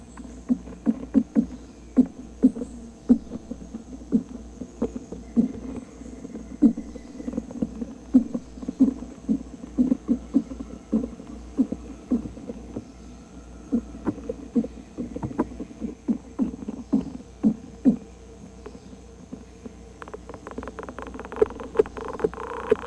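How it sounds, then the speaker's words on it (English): Treehopper vibrational signals carried through the stems and leaves of a host plant, picked up as a steady run of dry ticks and soft pulses at close range, with no voices present. "they communicate with vibrational signals that travel up and down the stems and leaves of their host plant"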